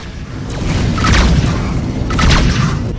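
Missile explosions strike a spaceship in the space combat game Rebel Galaxy, two heavy booming impacts about a second apart, loud and close with swishing blasts over a low rumble.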